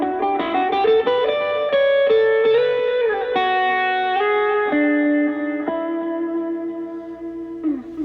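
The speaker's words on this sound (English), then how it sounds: "combining front end pickups with a delay pedal and just the full drive for smoother tones" Electric guitar played through the front pickup with full drive and a delay pedal, a smooth, sustained melodic line of held notes with echoing repeats, heard alone without talk.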